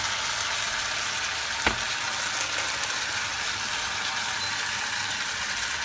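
A caramel of 100 g sugar and two spoonfuls of water cooks in a saucepan, giving an even, continuous bubbling hiss with a single sharp click partway through.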